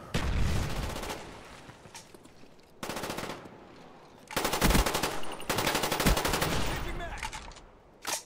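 Automatic weapon fire in the video game Black Ops comes in loud bursts of rapid shots that stop and start across the clip, with a voice talking briefly between volleys.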